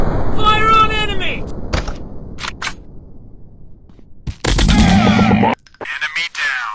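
Gunfire rings out in the Commando Strike shooting video game: loud, sharp bursts of shots mixed with game voice effects, then a quieter stretch before another dense volley.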